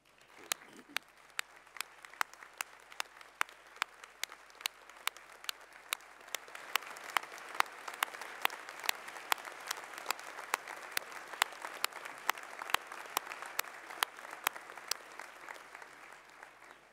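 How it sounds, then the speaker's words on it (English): Steady applause from a graduation ceremony audience at a university winter awards event, starting moderate and swelling fuller partway through, with sharp individual claps standing out in a regular pattern near the front. "join me in a round of applause of thanks for all of those who have supported you over the last few years"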